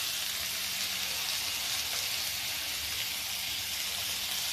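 Garlic for a chutney sizzles steadily in hot oil in a home kitchen, a continuous soft frying hiss heard close, with no one speaking.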